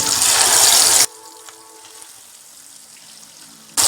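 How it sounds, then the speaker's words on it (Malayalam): Loud, dense hiss of red snapper hitting well-heated oil for about a second, then a quieter steady sizzle, with another loud burst at the very end. "നന്നായി തിളച്ച എണ്ണയിലേക്ക് നമുക്ക് ഈ മീൻ ഇട്ടു."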